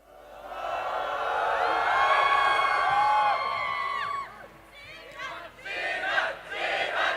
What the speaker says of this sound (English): So we did hear the crowd chanting